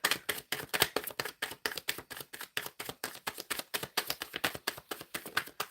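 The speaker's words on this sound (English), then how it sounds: "Shuffling for JA." Tarot cards being shuffled by hand, a steady run of quick crisp riffling snaps repeating in a fast rhythm, close and fairly quiet, with no talking.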